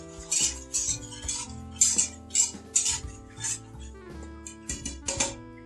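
A whisk rattles against a bowl while ramen ingredients are mixed, bright rhythmic metallic clinks repeating about twice a second, close and fairly quiet.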